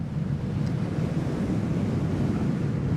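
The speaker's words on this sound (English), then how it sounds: "Got a little bit of a headwind this way, adding to the chill factor." Steady headwind roaring over the microphone during a KingSong 16X electric unicycle ride in cold weather in Ave Maria, Florida, a broad continuous rush of wind noise with no voices.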